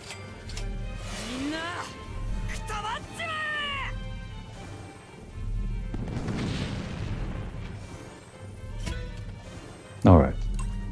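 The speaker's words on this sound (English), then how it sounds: "we splurge a little bit more on a large, long-range cannon" A large long-range cannon fires in the video game Fuga: Melodies of Steel 3, with a heavy boom midway and a sharp blast near the end, amid game voices and talking.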